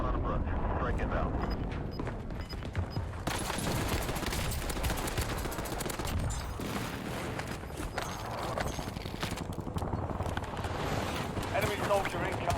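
An airstrike lands in Call of Duty: Warzone with a rapid barrage of explosions and gunfire-like blasts, dense and rumbling, under voices talking throughout.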